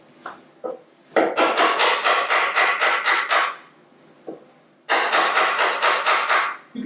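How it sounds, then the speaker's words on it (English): Chisel struck by a mallet while clearing wood from a cut recess in a Townsend document chest, two quick runs of about eight and six sharp rhythmic blows with a few isolated taps between, close and loud. "then just chisel out the rest"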